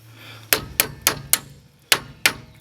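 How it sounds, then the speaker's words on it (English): A hammer strikes sharp metallic blows on a wrench to crack loose the brake bolts on a Nissan Altima. There are six ringing clanks at an irregular pace, close and loud. "And take your hammer, crack them free."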